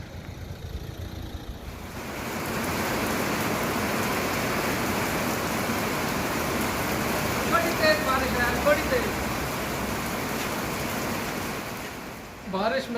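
Heavy rain pours in England as a dense, steady rushing hiss that swells after a quieter start and holds loud and continuous, with a brief clatter near the end.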